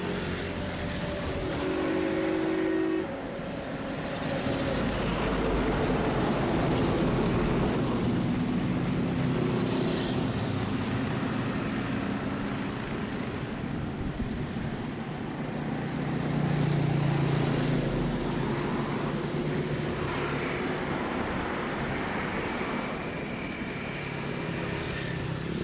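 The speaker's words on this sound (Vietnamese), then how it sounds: "Chiếc máy bay đang rời khỏi mặt đường băng 29L." An airplane takes off from runway 29L at Noi Bai airport, a broad continuous engine roar heard from a distance that holds steady for about 25 seconds with slight swells.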